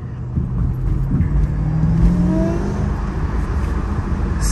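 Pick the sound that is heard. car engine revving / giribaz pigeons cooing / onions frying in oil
car engine revving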